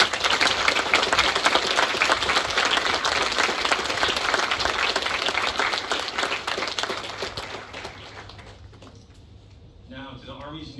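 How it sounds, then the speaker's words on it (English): An audience applauds at an army cavalry scout graduation ceremony, a loud, dense wash of clapping that holds steady for several seconds before thinning out and fading. "Please join me in a round of applause for the amazing leaders."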